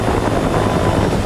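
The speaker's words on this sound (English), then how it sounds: "Better have classic helicopters." Helicopters arriving in a scene from the 2019 film Dark Phoenix, a loud, steady rotor and engine roar filling the whole moment without a break.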